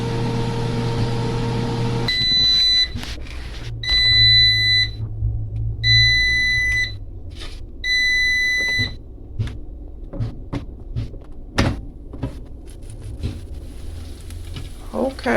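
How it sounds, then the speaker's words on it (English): A kitchen appliance buzzer sounds four times in a row, each a shrill electronic beep lasting about a second, ringing out clearly over a low rumble and scattered clatter in a home kitchen. "the buzzer is gonna go off in just a second"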